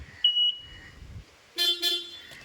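Short toots from the horn of a John Deere 5405 4x4 tractor, one brief blast and then two closer bursts in quick succession, standing out over a quiet background.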